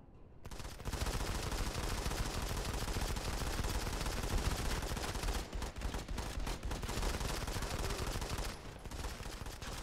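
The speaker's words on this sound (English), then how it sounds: "Oh man, the sniper rifle's working pretty well." Continuous gunfire from a PC match of Modern Combat 5, a 5-on-5 competitive game with a sniper rifle in use, a dense, loud barrage that carries almost unbroken through the stretch with a few brief dips.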